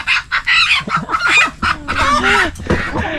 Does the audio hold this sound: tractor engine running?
no